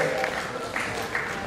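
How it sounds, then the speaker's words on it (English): Audience applause at a robotics competition awards ceremony (FTC regional qualifier), a steady wash of clapping with brief swells, heard under an announcer's voice. "Once again, round of applause."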